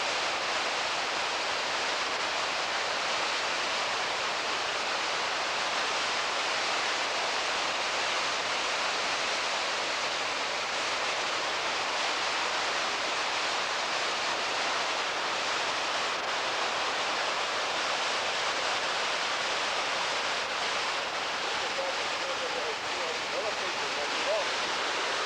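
The Glen Creek waterfall in Scotland gives a steady, dense roar of falling water. It is loud and unbroken, with no talk over it.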